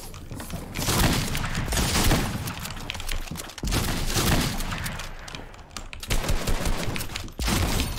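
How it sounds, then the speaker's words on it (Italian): Air-charged rifle gunfire in Fortnite, rapid repeated bursts of shots in several loud close volleys separated by short gaps, with no talking. "Il fucile è quello che carica con l'aria."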